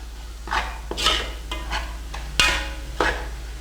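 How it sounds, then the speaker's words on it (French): A utensil clinks and scrapes against a pan as vegetables are stirred during cooking, several distinct strokes over a low steady hum, with no voices. "Ensuite on va remuer."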